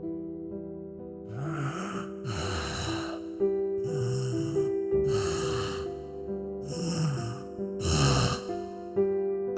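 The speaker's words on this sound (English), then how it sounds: "Breathing." Heavy, rasping breaths in a horror story set in a dark storm drain tunnel, drawn in slow, snore-like waves about every two seconds over a steady low tonal drone.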